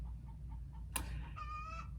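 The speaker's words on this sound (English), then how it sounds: "I hear the chickens." A chicken clucks softly, followed by a sharp tap and a short higher-pitched bird call, over a low steady background hum.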